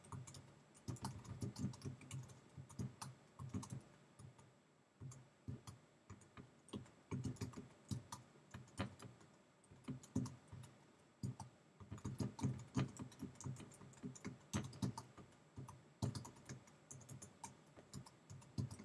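Typing on a computer keyboard while writing sentences in Google Docs, with bursts of quick key clicks broken by short pauses, close and fairly quiet, no voices.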